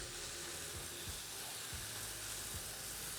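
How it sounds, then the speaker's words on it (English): Beef rouladen sears in a hot pan with a steady, close hiss and sizzle, broken by occasional soft taps and scrapes. "It's searing."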